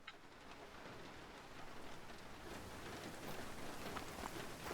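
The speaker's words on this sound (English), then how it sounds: "hopefully it'll stop raining soon" Steady rain falls across a hunting landscape in theHunter: Call of the Wild, a continuous broadband patter that holds even and moderately loud for the whole stretch with no voices over it.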